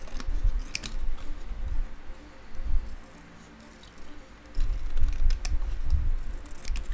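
Scissors snipping around paper cut-outs for a pop-up card, a series of quick close crisp clicks and rustles in bursts with a short quieter pause in the middle.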